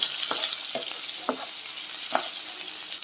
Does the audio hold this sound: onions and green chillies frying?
yes